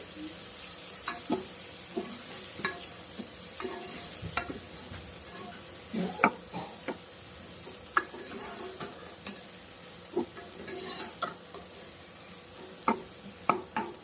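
Onion, garlic, mustard seeds and curry leaves frying in oil for a ridge gourd sambar, a soft steady sizzle broken by repeated sharp scrapes and taps of a spoon stirring in the pan.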